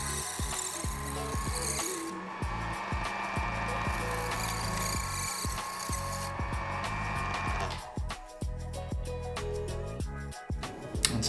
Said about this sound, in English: this is just real low grit sandpaper to clean off that surface rust